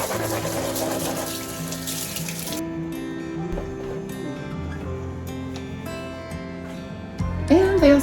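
Tap water runs steadily into a sink while heat-resistant gloves are washed, a continuous splashing gush that thins partway through, with a brief louder burst near the end.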